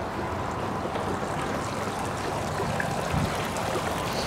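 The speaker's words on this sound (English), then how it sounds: "You want to just look at the water, Madison?" Flowing water, probably a stream, runs steadily and evenly at a moderate level throughout, a continuous broadband rush with no talk over it.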